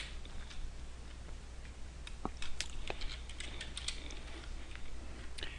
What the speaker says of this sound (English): You notice I use the keystrokes quite a bit.